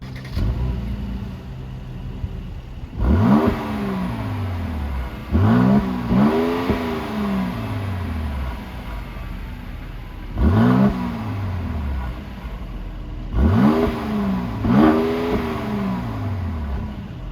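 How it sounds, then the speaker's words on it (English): A 2019 Mercedes-AMG GLC 43 Coupe engine revs hard several times, each sharp rise and fall in exhaust note separated by steady idling, close and loud with no talk. "let's hear the exhaust note"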